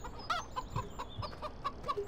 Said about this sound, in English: There's some chickens.